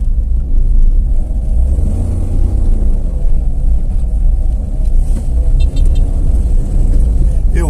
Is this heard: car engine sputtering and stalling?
yes